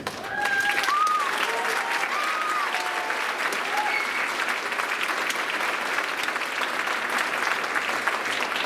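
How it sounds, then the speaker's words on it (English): Audience at a school band spring concert applauds with steady clapping, loud and sustained, with a few faint voices mixed into the opening seconds. "can you stand up so we can give you a round of applause as well?"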